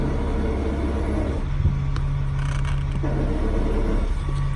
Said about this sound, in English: These jacks will lift up your coach. They'll lift up the coach in air.